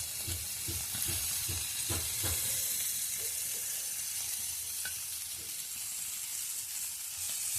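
Fish pieces fry in oil in a pan on a wood-fired stove, giving a constant hissing sizzle with a few quick stirring knocks early on, then steady frying.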